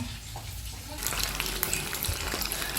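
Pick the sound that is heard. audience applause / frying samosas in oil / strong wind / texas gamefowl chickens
frying samosas in oil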